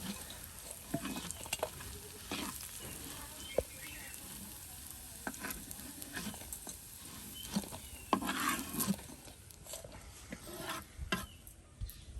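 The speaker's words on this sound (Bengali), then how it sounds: "এই যে বড়া কিন্তু একদম কিছুক্ষণের মধ্যে মচমচি ভেজে নেওয়া হলো।" Lentil fritters (bora) frying crisp in hot oil: a steady close sizzle with scrapes and clinks as the pieces are turned and lifted out, loud and continuous with no speech over it.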